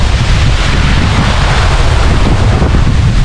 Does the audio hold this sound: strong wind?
yes